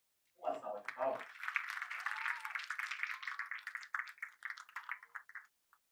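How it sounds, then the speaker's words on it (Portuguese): An audience at a dance school's musical theatre show applauds loudly. A brief spoken introduction comes first, then a sustained wave of clapping that slowly thins and fades over several seconds. "Uma salva de palmas."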